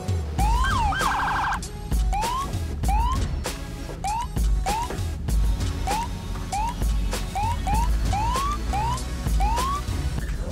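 A police car siren in the video game GTA RP wails in repeated short upward whoops, loud and close, after a brief rapid warble at the start, with game engine and road noise underneath throughout.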